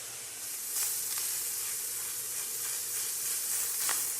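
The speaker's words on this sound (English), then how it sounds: "now that we got the meat starting to brown" Ground meat for a Bolognese sauce browns in a hot pan with a steady, moderate sizzle and hiss, broken by a few brief louder crackles as it is stirred or moved.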